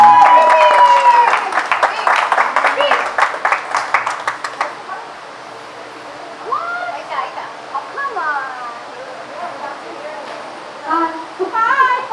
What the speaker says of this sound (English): Hey, clap your hand, come on.